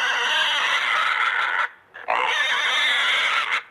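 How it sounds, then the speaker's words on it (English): Recorded pig grunting played back indoors, two long, loud, raspy grunting bursts separated by a short pause. "That's a pig"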